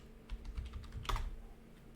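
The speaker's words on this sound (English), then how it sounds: "I was typing in Robert Jones." Quick bursts of keystrokes on a computer keyboard, soft and close, with a rapid cluster of clicks in the middle and no voices.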